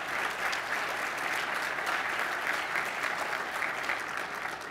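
An audience applauds steadily, a dense wash of clapping hands filling the whole clip without pause.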